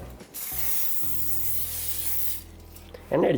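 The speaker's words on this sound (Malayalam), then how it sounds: "ഏറ്റവും ആദ്യം ഇവിടെ എണ്ണ ഒന്ന് സ്പ്രേ ചെയ്ത് കൊടുക്കുകയാണ്" Oil sprayed onto a beef steak before grilling: a steady hissing spray lasting about two seconds, close and fairly loud, with a mechanical clicking at the start and a brief burst of other noise at the end.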